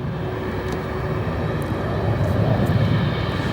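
An Atlas Air Boeing 747-8 taxis at O'Hare at night, its jet engines giving a loud, steady roar and whine that swells slightly toward the end, with no voices.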